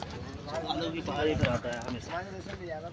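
Horse hooves clip-clop at a hill-station viewpoint in Nainital, a steady rhythmic series of hoof strikes moving along beneath continuous conversation from nearby people.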